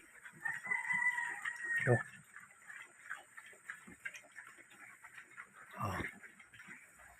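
Chickens cluck faintly in the background, with a rooster crow rising near the start and another squawk later, mixed with scattered voices.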